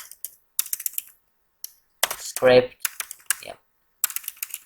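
Code is typed on a computer keyboard in quick bursts of crisp key clicks separated by short pauses, and a brief spoken word sits in the middle of the typing.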